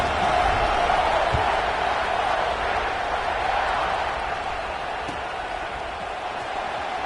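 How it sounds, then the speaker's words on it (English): A football stadium crowd at an LSU vs Ohio State game buzzes after a score, a dense, steady roar of many voices that holds level throughout, with faint commentary beneath. "this crowd is buzzing after that last score"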